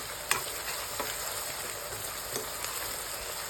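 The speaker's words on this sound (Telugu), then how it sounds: "మంచిగా గోల్డెన్ బ్రౌన్ కలర్ వచ్చే వరకు ఆనియన్స్ ఆయిల్లో మంచిగా ఫ్రై చేసుకోవాలి" Onions fry in hot oil with a steady, even sizzle while a spoon stirs now and then, a few sharper scrapes breaking through; no one talks over it.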